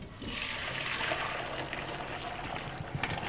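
Boiled potatoes and their salted cooking water are tipped from a pot into a kitchen sink, a steady rushing gush of draining water, close and continuous, easing slightly toward the end.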